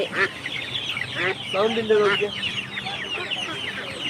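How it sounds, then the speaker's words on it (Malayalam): Poultry at a market cluck and call close by, a busy mix of chicken and turkey sounds, including fancy and silkie chickens, over faint background chatter. "ഇതാ വണ്ടി നിറച്ച് നിറച്ചും ടർക്കികളുണ്ട് ഫാൻസി കോഴികളുണ്ട് സിൽക്കി കോഴികളുണ്ട്"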